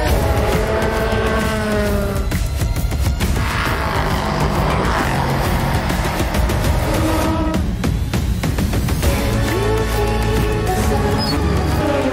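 A race car at the Monza circuit during the 4 Hours of Monza 2022 endurance race, its engine note rising and falling loudly with several passes and gear shifts, continuous and close throughout.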